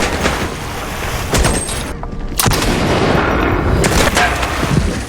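A Kalashnikov prototype rifle is fired in a film scene, with repeated sharp shots cracking over a dense, noisy background and some louder bursts scattered across the few seconds.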